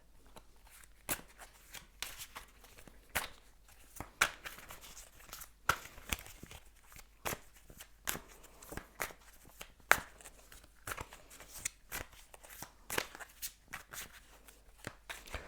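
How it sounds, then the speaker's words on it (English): Tarot cards are shuffled close up, a run of crisp riffles and soft snaps in an irregular rhythm, with no talking. "So I'm going to shuffle and see what the cards have to say."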